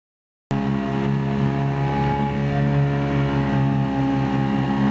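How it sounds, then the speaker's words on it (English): A sailboat's inboard engine motors across Bass Strait, a steady droning hum with strong low harmonics running continuously after a brief silent start, close and fairly loud. "So we started the engine and motored the last hour or so in Bass Strait."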